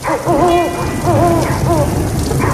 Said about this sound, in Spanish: La lluvia aún no cesa